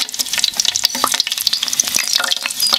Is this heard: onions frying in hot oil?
yes